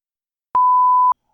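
A single clean electronic beep marking a spoiler skip point in a podcast, a steady pure tone lasting just over half a second, loud and alone against silence.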